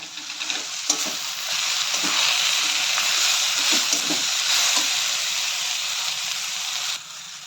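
Cumin and coriander powder frying in a pan for potato kachori filling, a loud steady sizzle and hiss with repeated stirring scrapes and clicks throughout.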